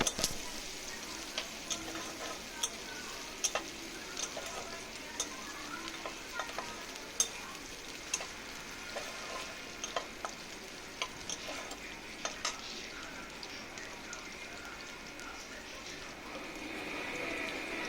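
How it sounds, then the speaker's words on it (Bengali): Onions and chopped chilli frying in a pan for a spinach dish, a soft steady sizzle with frequent light scrapes and clicks of a stirring spoon throughout, fairly quiet and without talk. "দেখো ভেজে নিচ্ছি পেঁয়াজগুলো পেঁয়াজগুলো একটু লাল লাল করে ভেজে নেবো"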